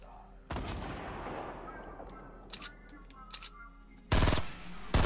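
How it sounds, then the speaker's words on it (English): Rocket launcher firing in the video game Fortnite: a loud blast with a long decaying rumble, a few faint clicks, then a second sharp, loud boom near the end, with little or no talk. "Rocket launcher."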